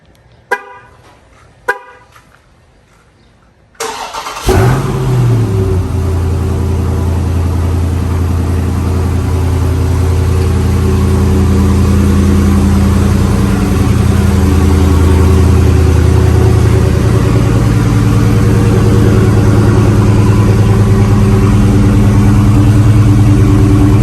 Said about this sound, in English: you can't start a video without a cold start.